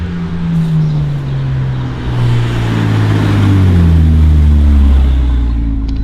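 BMW 335i with a PE exhaust modification driving up, its engine note rising and falling in pitch as it approaches, a loud deep drone growing closer over several seconds.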